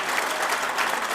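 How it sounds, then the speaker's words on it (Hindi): Dense, steady applause fills the hall as a mushaira audience at a medical college in Muzaffarnagar claps for the poet Dr. Nawaz Deobandi, a continuous close crowd sound with no voices over it. "तालियों की गूंज में इस्तकबाल करें"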